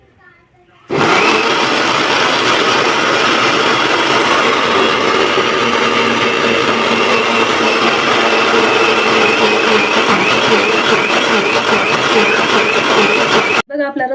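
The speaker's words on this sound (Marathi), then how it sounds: "वेळ आपण रस काढून घेऊया मिक्सरमध्ये" A mixer grinder blends ingredients into juice for puran poli, roaring loudly and steadily for about twelve seconds after a quiet start, then cutting off abruptly near the end.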